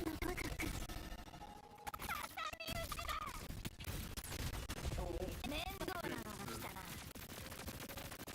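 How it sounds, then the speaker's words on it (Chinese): Explosions and rapid blasts from the video game Wuthering Waves, a dense barrage of booming bursts and crackling impacts with game music and effects layered over them, sustained and loud throughout, with a person talking under the din. "大爆炸！"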